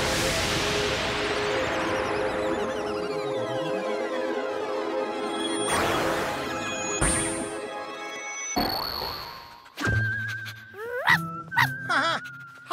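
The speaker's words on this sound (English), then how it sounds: "I wonder where she came from and why she's barking so much." Cartoon sound effects from the children's cartoon Messy Goes to Okido play: sliding tones, boings and dings, with a few short, high-pitched yipping barks from a cartoon dog near the end.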